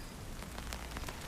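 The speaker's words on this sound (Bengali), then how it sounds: "বৃষ্টি থামবে কিনা ভাবছিস?" Rain falls steadily in a soft, even hiss of drops on surfaces, faint and continuous with no voices.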